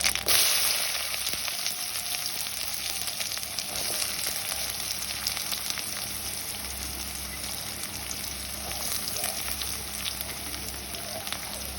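Onions and dried red chillies fry in hot oil for a chickpea sundal breakfast, a strong, close, steady sizzle with light stirring, heard alone with no talking.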